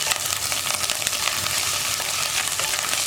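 Crushed ginger and garlic fry in hot oil for a kadala curry, a steady, dense, close sizzle that holds evenly throughout without pauses.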